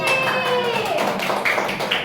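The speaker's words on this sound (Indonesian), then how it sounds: "Tepuk tangan untuk Siti." Classroom students clap for a classmate during a peer-teaching lesson, a dense, busy patter of hand claps close by, with voices and some whistle-like tones mixed in throughout.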